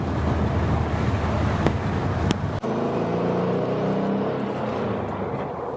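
A 1979 VW Super Beetle convertible cruising on a freeway, with steady engine drone and road and wind roar throughout, a brief dip midway, and no talk.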